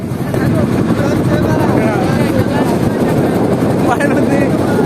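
A boat engine drones loud and steady on a sunny holiday river trip, with rushing wind and water noise throughout.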